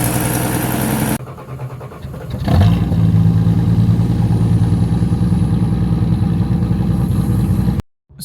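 A 1962 Plymouth Valiant barn-find engine coughs into life and settles into a loud, steady, slightly rough idle with a throbbing low rumble, running close up for several seconds before cutting off abruptly near the end.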